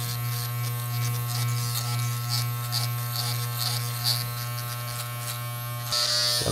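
Cheap electric hair clippers buzz steadily and loudly close by during a self-cut mid fade, a constant motor drone with slight shifts as the blade moves through hair, and no voices.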